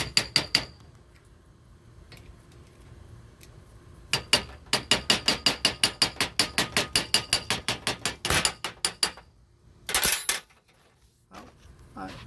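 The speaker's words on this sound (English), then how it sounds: "We're hammering out here" A hammer strikes the metal of an Airmaxxx 4x air manifold in fast, regular bursts of sharp clanks, pausing between runs, close and loud, with some talk during the quieter gaps.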